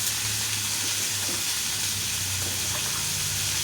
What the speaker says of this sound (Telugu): కొంచెం బ్రౌన్ కలర్ వచ్చే వరకు ఆనియన్స్ని ఫ్రై చేసుకుందాం.